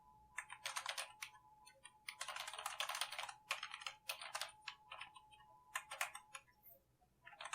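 Rapid bursts of computer keyboard typing while writing Java code, close and crisp, with clustered keystrokes separated by brief pauses and no voices.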